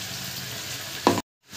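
Garlic-ginger paste hitting hot oil with fried onions, a soft steady sizzle that swells briefly as the paste goes in, then cuts off abruptly before faintly returning.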